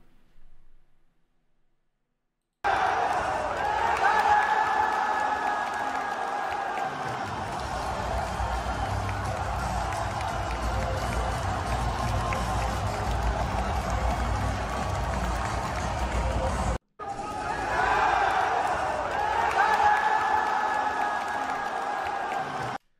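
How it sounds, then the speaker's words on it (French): A large crowd at an esports event roars and cheers continuously, a dense wall of noise with clapping and whoops, briefly cut off midway before surging again. "La foule est incroyable, bien évidemment. Écoutez-moi ça, c'était un truc de ouf."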